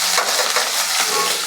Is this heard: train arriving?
no